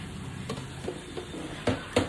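A tempering of mustard seeds, cumin, urad dal, chana dal and two dried red chillies sizzles softly in two spoons of oil for a brinjal ginger curry, with scattered sharp pops and clicks over the fizz.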